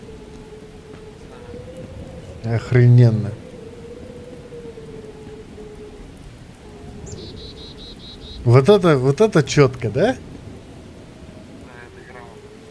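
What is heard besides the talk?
rain and thunderstorm in video game Miscreated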